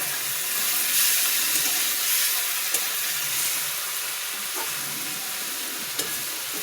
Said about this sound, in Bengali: মাছের তেল দিয়ে, রুই মাছের তেল দিয়ে পাট শাক করছি